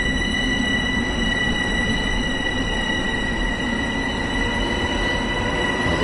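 An electric commuter train in Train Sim World 2 runs at speed on a Long Island route, a loud, steady rumble with whining electrical tones and faint wheel squeal and no voices.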